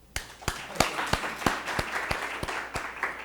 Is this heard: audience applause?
yes